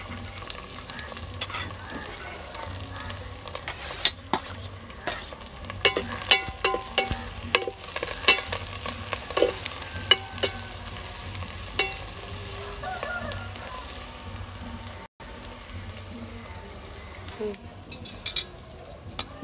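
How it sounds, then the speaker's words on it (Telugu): Onions frying in a pan for ragandi fish curry, a low steady sizzle broken by frequent clicks and scrapes of stirring, heard alone throughout. "తిప్పుకుంటూ వేగిన తర్వాత"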